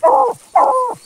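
A hunting dog on a paca hunt gives two close, loud whimpering yelps with barking, each cry rising and falling over about a third of a second, separated by a short pause.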